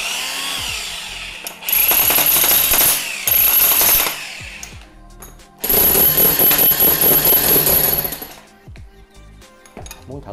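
Electric demolition hammer with chisel-only function running in two loud bursts of rapid hammering, each lasting a few seconds, separated by short pauses and clattering handling noises close up.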